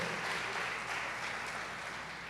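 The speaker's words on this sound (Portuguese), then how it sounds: "Aplaude Ele aí bem forte, em nome do Senhor." Church congregation applauding together, a steady, dense wash of clapping that holds evenly for a couple of seconds at moderate distance, with no voices standing out.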